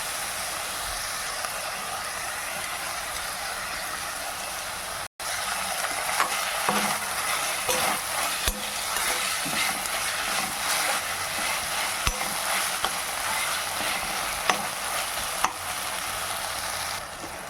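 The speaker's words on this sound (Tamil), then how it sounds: "இது கூடவே கல் உப்பு சேர்த்து வதக்குவோம்" Tomatoes sauté with rock salt in a pan, a steady loud sizzle throughout, with scattered clicks and scrapes of a spoon stirring them, a brief dropout near the start and no voices.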